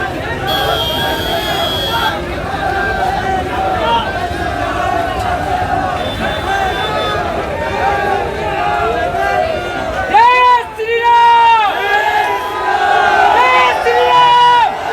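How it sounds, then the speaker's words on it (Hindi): A large crowd at a protest procession through the market streets of Shri Dungargarh fills the air with loud, continuous chanting and shouting, rising into sharper collective cries near the end. "भीड़ देखिए जुलूस में।"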